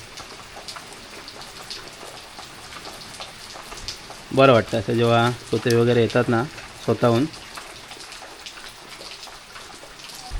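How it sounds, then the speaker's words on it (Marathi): Steady monsoon rain in a Konkan village patters in a constant soft hiss, with someone speaking briefly over it midway. "पाऊस जरा शांत झाला आहे"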